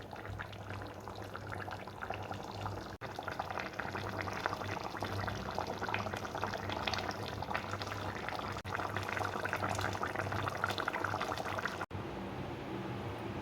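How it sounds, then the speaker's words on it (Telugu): Godavari-style koyangi fish curry boils on a stove over high flame, with a continuous close bubbling and burbling and no talk. "కుతుకుతా అంటూ ఉడికే వరకు మనం స్టవ్ హై ఫ్లేమ్లో పెట్టుకోవాలి"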